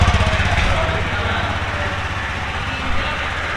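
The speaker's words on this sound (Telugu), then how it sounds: "అండ్ ఇక్కడ మీరు చూస్తున్నారు ఇది ఇది ఎగ్జాస్ట్ సౌండ్" A TVS Jupiter 125 scooter idles close by, its exhaust giving a steady, low, rapid putter that stays even throughout.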